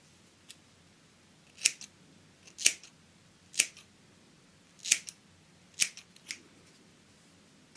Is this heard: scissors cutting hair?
yes